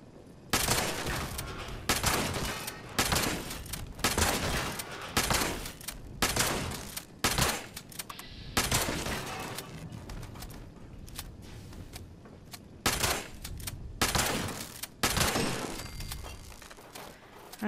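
Repeated bursts of gunfire from the video game Fallout 76, loud shots and short volleys arriving in clusters with brief gaps between them, over a steady ambient game background.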